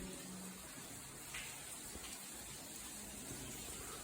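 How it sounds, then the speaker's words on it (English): Water flows and drips into an old abandoned railway tunnel, a faint, steady wash of trickling and splashing that echoes softly with no voices. "I can hear a lot of water coming in down here."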